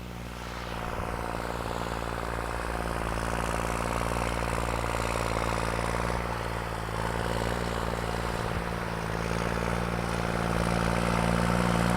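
Farm tractor engine running, with its throttle revved: a steady, loud, low mechanical drone with a rumbling pulse that holds throughout and rises slightly toward the end, with no talk over it.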